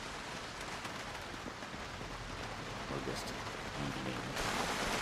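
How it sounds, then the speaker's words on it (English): Steady rain in the video game Project Zomboid, a dense, constant hiss of falling drops that fills the scene evenly and swells slightly louder toward the end. "Rain's coming down"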